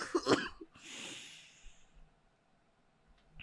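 A person coughs in a sharp burst, then breathes out heavily with a hissing exhale, followed by quiet room tone and a faint soft sound at the end.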